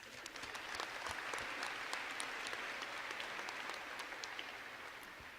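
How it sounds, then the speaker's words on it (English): Audience applause for university Writing Studies faculty at a Writer as Witness event, a steady, dense round of clapping from a crowd that holds evenly throughout, without talk over it. "So please give a round of applause to your Writing Studies faculty."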